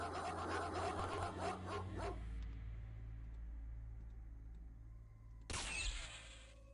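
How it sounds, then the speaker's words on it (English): A dog in the strategy video game The Xcom Files gives a burst of rough growling and snarling, then goes quiet before a second loud, harsh outburst closes the moment. "Sounds like somebody's dog got one."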